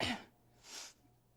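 A single quick, sharp sneeze from an actor in a movie scene, a short breathy burst followed by a softer hissing exhale, alone against a quiet background.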